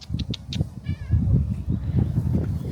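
A cat meows a few short times up close in a Swiss Alps trench site, brief squeaky calls early on, followed by someone talking softly to it.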